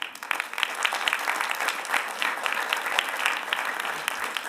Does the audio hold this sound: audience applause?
yes